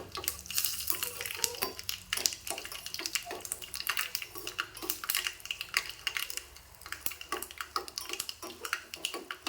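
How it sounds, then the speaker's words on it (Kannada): Green chillies, dried red chillies and curry leaves frying in a pan on a gas stove, crackling and sizzling with frequent sharp pops and spoon scrapes against the pan, steady and close. "ನೋಡ್ರಿ ಮೆಣಸಿನ್ಕಾಯಿ ಅದೆಲ್ಲ ಫ್ರೈ ಅದು ರೀ"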